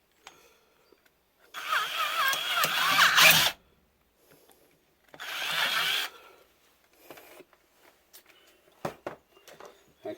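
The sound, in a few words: drilling out a stuck case in a reloading die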